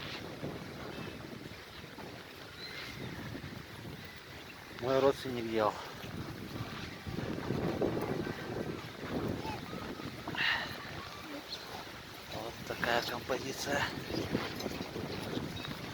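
Wind buffets the microphone in a steady, rough rush, with someone talking briefly over it outdoors in Yakutsk in winter.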